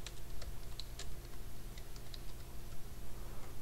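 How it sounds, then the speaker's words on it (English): Light, sparse clicks of one-handed typing on a computer keyboard during a co-op session of the card game Card Hunter, slow and irregular over a low steady hum. "One-handed typing is very slow."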